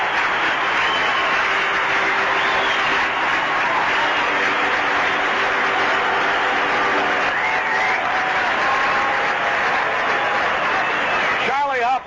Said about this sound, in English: here's the applause for the Candyman. Standing ovation here. Everybody up at Three Rivers.